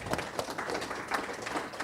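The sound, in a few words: audience applause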